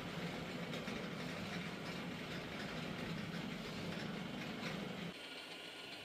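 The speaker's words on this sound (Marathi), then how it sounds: "ही रसाला ढवळायची मशीन आहे। याच्या खाली गॅस पेटवलेला असतो आणि वरती मोटार असते, ती कंटिन्यू आमरसाला ढवळत असते" A motorized stirring machine set over a gas flame churns Hapus mango pulp in a large pot, producing a steady, low mechanical hum and rumble that drops slightly in level near the end.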